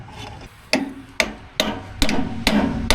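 A hammer striking the hydraulic cylinder of a John Deere JD410 backhoe, about six sharp metallic blows in an uneven rhythm, close and loud, with no talk.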